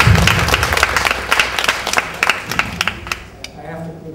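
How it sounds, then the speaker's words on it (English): An audience at a Macao literary event applauds as author Robert Olen Butler is welcomed, with lively, uneven clapping and sharp individual claps, and voices talking through it as it trails off. "let's give a round of applause to Robert Olen Butler"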